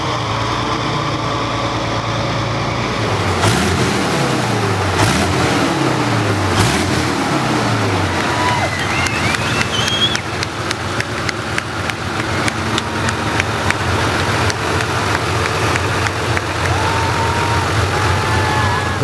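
A motorcycle driven by a Soviet T-55 tank turbine engine roars loudly and steadily, the pitch sweeping up and down as it revs, with sharp cracks and pops scattered through the second half.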